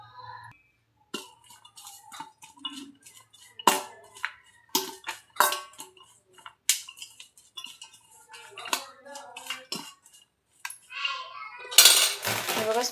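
Kitchen utensils clink and scrape in a bowl while evening snack ingredients are mixed with chilli powder and coriander leaves, a run of close, irregular sharp taps and scrapes with short pauses between them.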